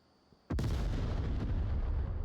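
A frag grenade explodes around a corner in the VR shooter Onward during a competitive match, a sudden loud blast with rumbling gunfire continuing after a quiet start.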